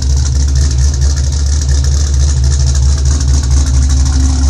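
A 2005 Ford Mustang GT V8 with a Comp Cams Mutha Thumpr cam idles loud and close, a steady deep rumble with a choppy lope and no talk.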